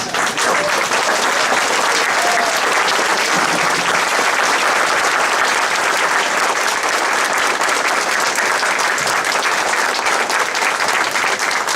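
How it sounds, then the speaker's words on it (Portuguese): A large audience rises for a standing ovation at a round-table session on regulating acupuncture, filling the room with loud, sustained, dense applause that runs unbroken from start to finish. "E eu quero mais uma vez que nós todos nos levantemos e aplaudamos de pé esses dois baluartes."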